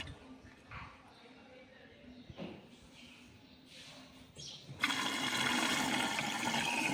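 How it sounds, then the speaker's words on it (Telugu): A washing machine draws in water through its inlet filters: soft knocks and low murmurs first, then a sudden loud, steady rush of incoming water for the last couple of seconds. "చూడండి చూడండి, వాటర్ తీసుకుంటుంది."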